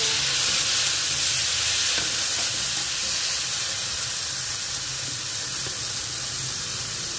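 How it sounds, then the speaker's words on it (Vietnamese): Pineapple stir-fried with golden garlic in a hot pan for a Mekong-style sour salmon-head soup, giving a loud, steady hiss and sizzle that fades slightly over several seconds. "tỏi của mình vừa vàng mình cho khóm vào mình xào luôn"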